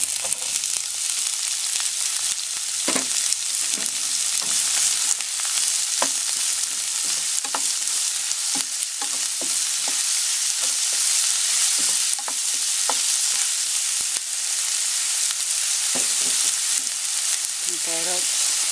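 Garlic and onion fry in a hot pan, a constant bright sizzle with intermittent scraping and clinks of a spatula stirring, close and steady throughout with no talking.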